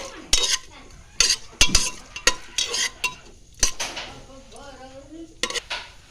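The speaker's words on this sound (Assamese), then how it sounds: "অলপ সময় এনেকৈ লৰাই থাকিব লাগিব।" Pulao with cashews stirred in a pot, a spoon clanking and scraping against the metal in irregular bursts over a light sizzle, close and clear, with a brief hum-like tone partway through and no speech.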